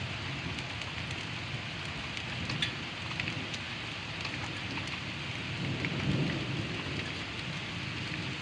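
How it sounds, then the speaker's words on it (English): Steady heavy rain hisses throughout, with a low rumble of thunder swelling briefly toward the end. "that's a loud little frickin' thunderstorm"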